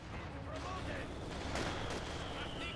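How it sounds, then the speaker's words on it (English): Mortar shells striking in Company of Heroes 2 combat, dull booms and scattered gunfire mixed with dense battle noise and game voices, loud and continuous across the short span. "Took a nice hit there from Mortar, which gave them light cover."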